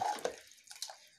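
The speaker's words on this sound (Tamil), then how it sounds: "தண்ணி ஊற்ற போகிறீங்களா?" Water poured into a pot while cooking sambar, a short splashing trickle with a couple of faint drips, quiet and close, with no voices.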